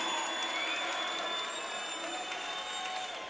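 A fight night crowd cheers loudly and steadily, with a broad wash of voices, sustained whistling tones and scattered claps throughout.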